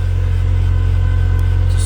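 A 1999 Mazda Miata engine runs steadily at the tailpipe, a loud, close, continuous low exhaust drone with an even pulsing throb throughout.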